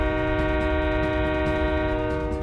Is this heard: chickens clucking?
no